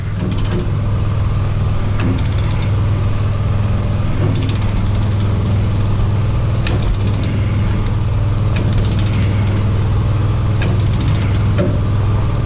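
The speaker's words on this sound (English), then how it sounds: "Impact should take that off now." Impact wrench working on a tight bolt while flipping a steel cutting edge, loud continuous mechanical rattling with repeated bursts of hammering over a low engine drone.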